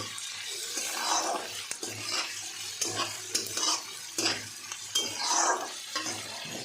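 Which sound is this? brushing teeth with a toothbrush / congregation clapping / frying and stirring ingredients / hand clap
frying and stirring ingredients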